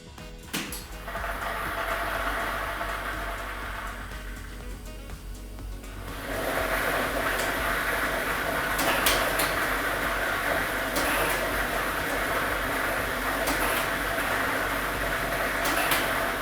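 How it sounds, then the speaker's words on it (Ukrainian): Lottery ball drawing machine chosen for the Loto Maksyma state draw with ball set number two, switching on partway through and churning steadily with a loud, continuous mechanical rattle and whir after a quieter start. "ми вмикаємо лототрон"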